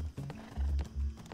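Horse hooves in Black Desert Online, a few heavy thudding steps in uneven rhythm, fairly close and moderately loud with no talk.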